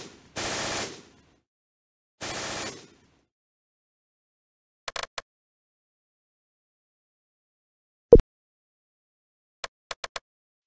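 Gunfire in a Close Combat battle game: two short bursts of automatic fire, then scattered sharp cracks and a heavy single report, separated by silence.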